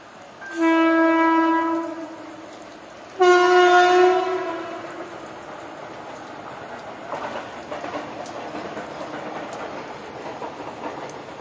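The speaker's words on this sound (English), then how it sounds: "there's a train coming. It's a beautiful scene." A train passes on the railway track beside an ashram, with two long, loud horn blasts and then the steady rumble and clatter of the cars rolling by, close and continuous.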